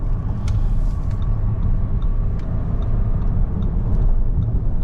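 Cabin noise inside a 2025 Audi Q7 accelerating on the highway: a loud, steady low engine and road rumble with constant tire hiss and light high ticks, no talking.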